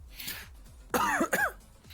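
Two short, harsh coughs close by, following soft breathing, with a faint rhythmic tapping in the background.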